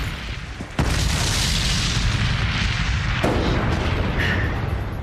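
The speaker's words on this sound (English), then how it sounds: "If this thing doesn't explode." An explosion erupts suddenly as a sharp, loud blast, then rolls into a sustained heavy roaring rumble that surges again partway through before continuing.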